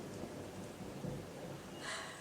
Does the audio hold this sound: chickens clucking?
no